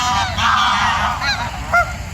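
Geese honk noisily at a busy bird feeding area in Cleethorpes, with several overlapping calls from a crowded flock and steady background noise throughout.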